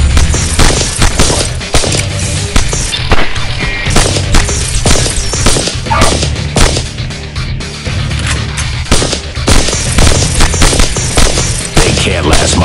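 Gunfire in the video game Evolution: Battle For Utopia, with dense, loud, continuous bursts of automatic fire and impacts crashing without pause, while voices shout underneath.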